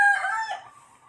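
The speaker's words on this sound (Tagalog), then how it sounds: "Pasensya na kayo kasi yung mga manok talaga dito. Hindi maiwasang tumilaok." A rooster crows once, close and loud, its drawn-out call trailing off quickly within about a second with no other sounds around it.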